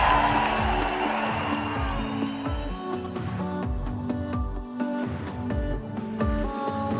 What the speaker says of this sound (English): a round of applause for your top 10 finalists